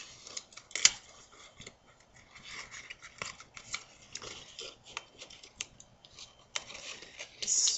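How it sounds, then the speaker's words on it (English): Cardboard candy bar box being folded up by hand close by, with soft scraping, creasing and rubbing, a few sharp crinkles and taps, no speech. "So let me fold up the box."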